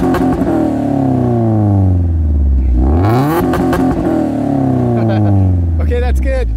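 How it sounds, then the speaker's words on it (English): A car fitted with a Magnaflow muffler revs hard and loud twice, each rise sweeping up and falling back, with a brief exhaust burst between and faint voices near the end. "I'm gonna get my trusted assistant to rev the car and we'll see how loud it"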